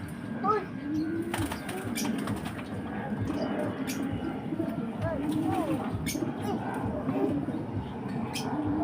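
Pigeons coo softly over a busy wash of splashing and fluttering wings, with a voice talking now and then in the background.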